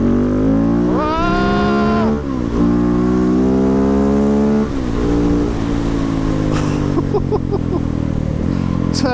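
KTM 690 SMCR supermoto motorcycle with modifications, ridden hard down a back lane: a loud, close single-cylinder engine revving up and down through repeated rises and blips, continuous throughout with no talk.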